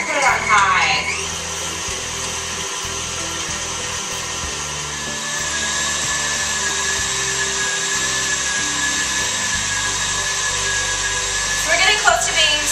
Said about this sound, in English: Here's a little peek inside the mixer with the creamed margarine